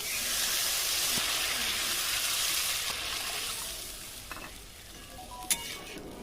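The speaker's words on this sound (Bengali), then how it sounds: "মশলা কষানো হয়ে গেছে, জল দিয়ে দিচ্ছি।" Water poured into fried, well-cooked spice paste with Kashmiri chili powder in a pan while making tel koi fish curry, giving a loud continuous sizzling hiss that slowly fades, with a few faint clinks near the end.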